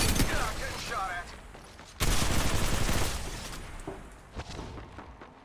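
Bursts of gunfire in the mobile battle royale game Apex Legends Mobile, a dense loud volley opening each half, then thinning into scattered shots and impacts fading over several seconds.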